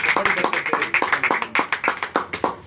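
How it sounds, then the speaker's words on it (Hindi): Church congregation clapping at a Hindi-Urdu Christian sermon, a steady rhythmic hand-clapping of many people, fairly close and continuous. "एक बार जोरदार तालियां"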